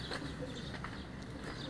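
Flying pigeons kept on a rooftop give soft, low cooing that sits faintly under a steady background hum throughout.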